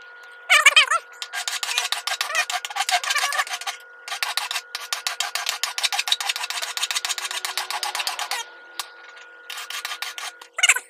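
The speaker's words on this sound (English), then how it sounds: "That's just got to be filed back a little bit." A hand file rasps back and forth across a forged metal bottle opener in quick rhythmic strokes, loud and close, with short pauses between bursts of filing.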